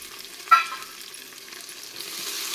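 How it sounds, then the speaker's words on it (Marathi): A brief sharp hiss as coriander with stems hits hot spiced oil, then a quiet, steady sizzle of frying that builds slightly toward the end. "ही कोथिंबीरसुद्धा या फोडणीमध्ये एक मिनिटभर भाजून घ्यायची"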